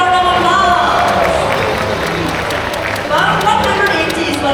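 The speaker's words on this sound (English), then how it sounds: "Give yourself a round of applause" An audience at a bird show at Bird Paradise bursts into loud, close applause mixed with cheering and a few whoops, a continuous full roar that swells again near the end.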